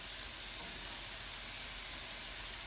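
Garlic butter lobster sizzles in a pan on the stove, a steady, close, bright hiss of frying butter that runs unbroken without any talking.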